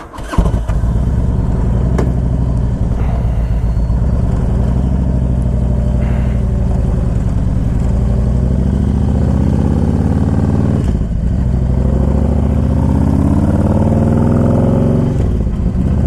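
A fuel-injected 2000 Harley Davidson Electra Glide Classic motorcycle engine starts and runs with a loud, steady, rumbling idle, rising in a few throttle blips near the end, close and alone without talk.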